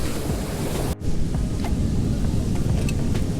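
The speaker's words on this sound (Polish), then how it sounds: "Dość mocno wieje, ale przez to jest bardzo miło" Steady wind blowing at a seaside beach in the evening, a constant broad rush with gusty buffeting close to the microphone and faint surf underneath, with a brief dropout near the start.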